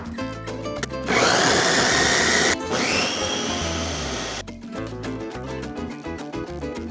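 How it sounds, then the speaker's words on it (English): Food processor chopping celery into fine dice, a loud whirring motor burst that starts abruptly, pauses briefly, runs again for a few seconds, then cuts off to quieter kitchen sounds. "Chop them into large chunks first, then let the food processor do the rest."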